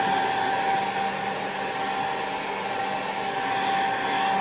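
Hair dryer blowing steadily on wet layers of foundation makeup, a continuous loud whirring roar with a steady high whine and no pauses or talk.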